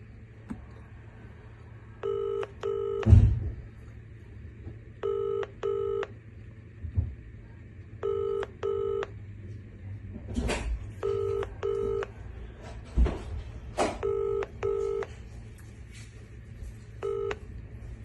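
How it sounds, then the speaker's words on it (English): An unanswered call on the Vodafone network rings repeatedly with a double-burst ringback pattern, about six cycles in all, interrupted by occasional handling thumps. "Nick, I've tried to call you now multiple times and you are not answering my phone call"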